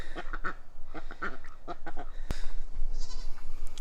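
A group of ducks quacks and honks nearby in a rapid, irregular series of calls, with one sharp knock partway through and faint outdoor background noise.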